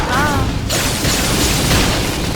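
A flame grenade detonates in the video game Xenoblade Chronicles X: a loud, close boom with a brief burst that rolls into a dense rumble, over battle noise and shouted voices.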